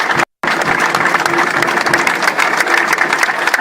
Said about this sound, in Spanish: Aplaudan, sí, compañeros.